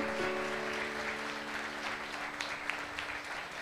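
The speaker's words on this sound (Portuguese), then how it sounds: "Querido, esse aplauso é para ele?" A church congregation gives steady, moderately loud applause in a Portuguese-speaking service, with a voice briefly audible over the clapping.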